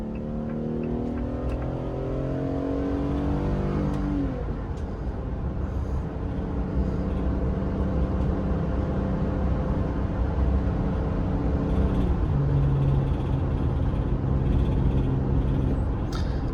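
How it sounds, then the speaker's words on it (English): A Winnebago Solis 59PX motorhome accelerates uphill, its engine note climbing steadily over the first few seconds and then holding a loud, continuous drone with road rumble, no talking. "I'll give it some gas here. We are going uphill, but it'll still get up to speed with traffic."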